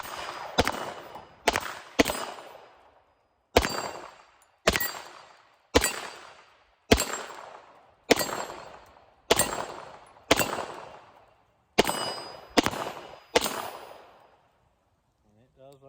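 A Beretta M9 9mm pistol fires about fourteen loud, sharp shots, each with a ringing decay. They come in an uneven but steady cadence of singles and quick pairs, with no talking.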